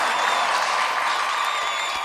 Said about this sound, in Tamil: ஒரு நல்ல ஒரு அரங்கம் நிறைந்த கைத்தட்டலை கொடுத்து